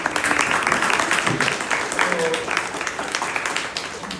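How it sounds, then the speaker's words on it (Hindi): Students at a school workshop clap to welcome a guest, a continuous crowd of hands applauding steadily and fairly loud, with faint voices mixed beneath the clapping. "मैं बच्चों से कहूंगा कि एक बार ताली से इनका स्वागत भी करें"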